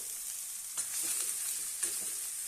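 Peeled bottle gourd pieces frying with green chilies in a pan, a soft steady hiss of sizzling oil with two brief stirring scrapes, fairly quiet and close.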